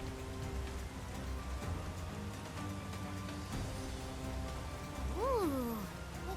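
Steady rain pours down in the Persona 5 Strikers game, a dense, even hiss that fills the whole span, with brief game tones and a rising chime near the end.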